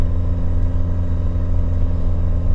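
Porsche 944 from the 1980s under way after sitting abandoned for years, a steady, loud low engine drone and road rumble filling the cabin, with no voices.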